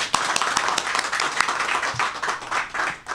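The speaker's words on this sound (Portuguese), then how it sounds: "Vamos aplaudir o Senhor Jesus?" Brisk, dense clapping from a church congregation applauding during a Portuguese-language worship service, close and lively, with individual sharp claps standing out over a few seconds.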